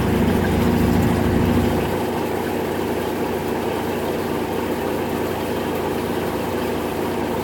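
A top-loading washing machine spinning on its casuals cycle at roughly 810 to 830 RPM, giving a steady, close, continuous whirring hum with a low rumble that settles slightly after the first couple of seconds.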